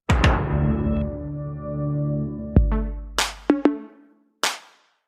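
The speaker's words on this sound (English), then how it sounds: "the Tudum" Netflix's Tudum sonic logo: a ringing, decaying tone gives way to a deep thud and a few sharp percussive knocks, ending in a final bright hit. The sounds are close and crisp, with no voices.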